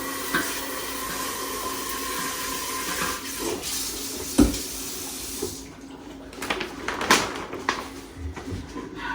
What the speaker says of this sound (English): So now, we'll hit that with some cold water